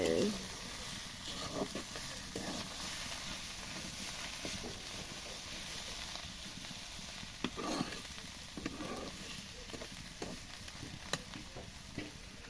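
Chopped bottle gourd fries in a little oil in a home kitchen pan, giving a soft continuous sizzle with occasional stirring scrapes and clicks, fairly quiet and close.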